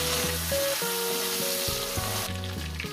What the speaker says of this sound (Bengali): টমেটোটাকে আমি সুন্দর করে এক মিনিট ভেজে নেব, 1 মিনিট।